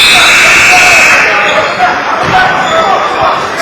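At a high school basketball game, the halftime buzzer sounds as a loud, sustained electronic tone for about a second, then fades into gym crowd noise and a commentator talking.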